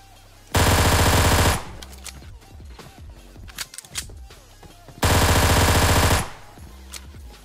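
Sustained automatic gunfire in a PUBG-style battle royale match at a military base, two loud dense bursts of about a second each with scattered shots and impacts between them.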